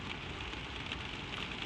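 Soft rain falling on a roof, a gentle, continuous hiss of drops with occasional slightly brighter patters, steady and fairly quiet.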